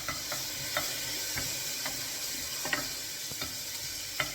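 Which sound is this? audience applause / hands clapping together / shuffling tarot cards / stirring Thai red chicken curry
stirring Thai red chicken curry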